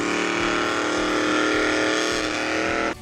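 A burnout car's engine runs at Summernats, giving a loud, sustained high-revving roar that holds steady for nearly three seconds before abruptly dropping off at the end.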